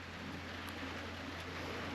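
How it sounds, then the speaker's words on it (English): Rain falls as a steady wash of hiss over a low, constant hum, with a couple of faint sharp ticks and no speech, heard close and at an even level. "it's now raining"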